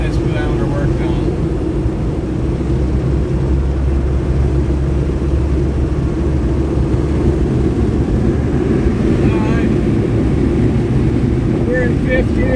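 A 1972 Porsche 914 cruising in fifth gear at about 2400 RPM, its steady low engine drone and road rumble running continuously with wind noise throughout, no talk over it.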